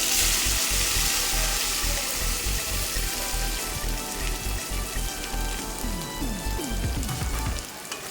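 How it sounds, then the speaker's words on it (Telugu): Pounded spice mixture dropped into hot oil with curry leaves, frying with a steady, dense sizzle and crackle throughout, close and loud, with faint stirring near the end. "ఇప్పుడు దంచి పెట్టుకున్న మిశ్రమం మొత్తం ఆయిల్లో వేసేసుకున్నాం"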